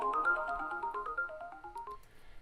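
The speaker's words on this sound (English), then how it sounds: "take this electrical sweep" An electrical sweep sample for a lo-fi hip hop beat: a short run of bright, stepped synthetic tones glides downward over about two seconds, then fades into faint hiss.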